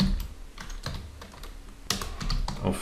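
HTML code is typed on a computer keyboard in quick, uneven bursts of close, crisp key clicks, with a few heavier keystrokes standing out.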